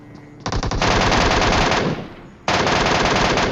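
Sustained bursts of machine gun fire from a PUBG Mobile match, loud and close, one long burst, a brief lull, then another rapid burst resuming.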